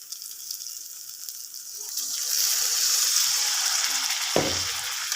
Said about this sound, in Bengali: অল্প করে জল দিচ্ছি।